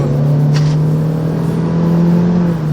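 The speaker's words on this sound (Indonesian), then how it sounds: "Jedanya tuh lumayan berasa antara kita kick down sama mobilnya langsung mulai meraung gitu tuh." A Honda Civic Hatchback RS engine drones steadily from inside the cabin after a kick-down, a loud, even tonal hum with a slight rise in pitch and no voices.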